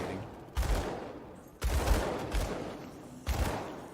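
Barrage of bullets in the video game Grim Dawn: repeated heavy bursts of gunfire, three or four loud blasts with rumbling tails in rapid succession, no talk over them.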